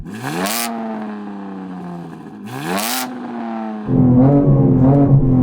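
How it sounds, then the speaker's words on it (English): Tuned BMW car engine, loud and close, rising in two sharp revs that each climb and fall back, then settling into a rough, burbling idle with no talk over it. "Rev up your car, Sam."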